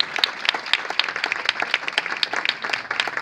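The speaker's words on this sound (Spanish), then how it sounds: "Aplausos por favor." Steady, dense applause from an audience at a tango club evening with a live orchestra, continuous and fairly loud throughout without any talking.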